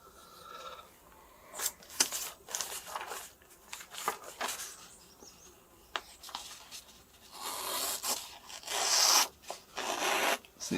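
A SOG camp axe blade being sharpened gives irregular rasping and rubbing strokes, quiet and close, with bursts of harsher grinding scrapes toward the end.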